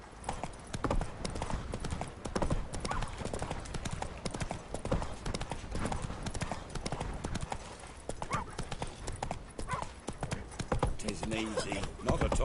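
Roach, Geralt's horse in Witcher 3, gallops in a dense, continuous run of hoofbeats mixed with game ambience and occasional voices.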